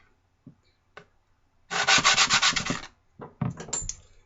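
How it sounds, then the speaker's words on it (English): Hand sanding of handmade knife scales, a steady scratchy rubbing burst of repeated strokes lasting about a second, then a few shorter rubs, with scattered light taps before, close and fairly loud. "I'm going to sand on it."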